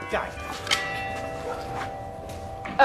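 A church bell in Enkhuizen, North Holland, rings the quarter hour, its sustained ringing tones hanging steadily in the air while people talk over it nearby.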